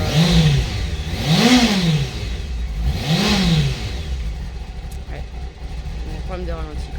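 A motorcycle engine with an idle problem revs up and drops back in two or three rising and falling swells, then settles into an uneven idle.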